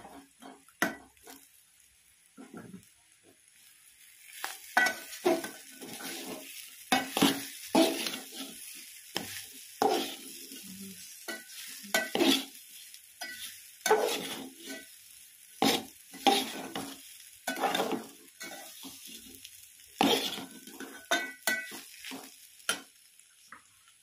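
Boiled potatoes fry in a pan while a spoon stirs them in quick, irregular scrapes and knocks over a faint sizzle, close and busy throughout.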